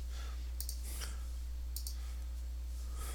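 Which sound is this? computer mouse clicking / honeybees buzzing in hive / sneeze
computer mouse clicking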